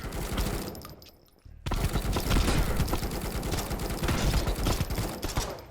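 Machine gun fire in the video game Potentia: a close, dense, continuous rattle of rapid shots, broken by a brief pause, then a long unbroken burst.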